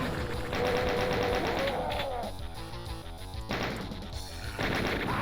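Rapid bursts of chaingunner fire in the video game Doom: two stretches of fast, evenly spaced shots separated by a short lull, played over a sustained in-game tone.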